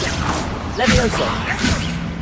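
Spell-casting effects from the Hogwarts Legacy video game, the Levioso levitation spell, with whooshing swells and impact-like bursts over continuous game noise, close and fairly loud, with a voice speaking alongside.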